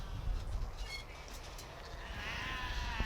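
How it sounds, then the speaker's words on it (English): Beltex ewe lambs at a livestock show, with wavering bleats rising over a constant crowded indoor rumble, moderately distant and fairly soft. "6 very smart ewe lambs out in this class"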